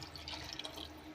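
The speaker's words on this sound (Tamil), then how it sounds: "கொஞ்சம் தண்ணி ஊற்றி அலசி ஊற்றிக்கலாம்," Water from a rinsed container poured into a pot of brinjal kara kuzhambu, a brief soft trickling and dripping close by, faint and with no voices.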